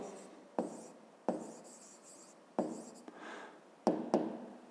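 A pen scratches across paper as numbers are written out for a fifth-grade multiplication exercise, in short separate strokes and taps with brief pauses between them, close and clear with no talking.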